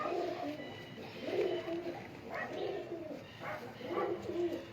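Pigeons in a breeding loft coo in repeated low, rolling phrases roughly once a second, moderately close, over a steady background hiss.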